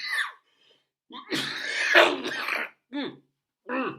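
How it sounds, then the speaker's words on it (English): A harsh, raspy post-COVID cough bursts out in a long fit, followed by two shorter coughs after brief pauses, close and fairly loud. "No, that's your post-COVID cough"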